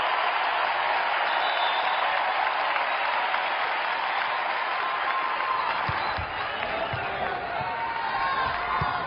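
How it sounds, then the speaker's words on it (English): A home crowd in Lincoln cheers and applauds at a Nebraska women's volleyball tournament match against Oregon, a loud, dense, sustained roar of clapping throughout. "that brings the crowd to their feet here in Lincoln"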